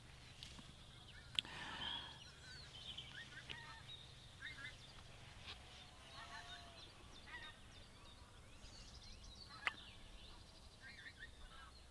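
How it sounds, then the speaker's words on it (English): About a hundred geese fly overhead on their spring migration north, their faint, distant honks scattered over a quiet outdoor background, with a couple of sharper calls standing out. "Flock of about 100 geese just flying overhead"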